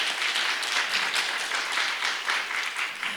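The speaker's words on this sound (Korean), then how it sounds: "오늘 릴레이 토크에 함께해 주실 5분께 다시 한번 큰 박수 부탁드립니다" Audience applause at a relay talk event on single-person households, a sustained, even patter of many hands clapping, moderately loud with no pauses.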